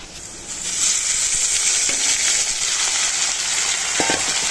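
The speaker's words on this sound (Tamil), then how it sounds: "இது நல்லா வதங்கட்டும்" Onions and goat intestine frying in a pan, a loud, steady close-up sizzle with a bright hiss that swells early and holds, broken by a few light scraping stirs.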